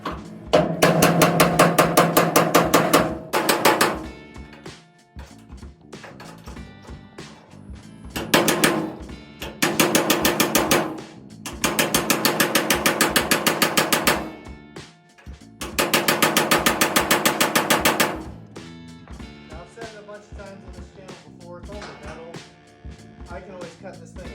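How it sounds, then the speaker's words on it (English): A small hammer on an extension drives a broken bolt off a Bronco tailgate, giving several long bursts of rapid, loud metallic striking separated by short pauses. "So I've got a little extension here and a little hammer, and I'm gonna drive that sucker off of there"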